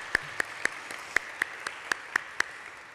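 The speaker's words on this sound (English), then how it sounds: "if I can ask for a round of applause for all the Commemoration Commission." About ten isolated, evenly spaced claps, quiet and fairly close, at a civic anniversary ceremony. It sounds more like a few hands clapping slowly than a full audience.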